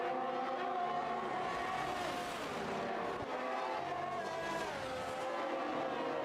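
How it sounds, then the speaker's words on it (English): Race cars circling Imola in a sim racing video game, with a steady, loud blend of several engine notes rising and falling as gears shift, plus occasional faint tire squeal, continuous throughout with no talk. "Energy Dan coming into the pits"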